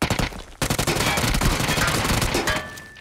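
Rapid, loud automatic gunfire in PUBG, a dense close burst that fires almost continuously after a brief pause.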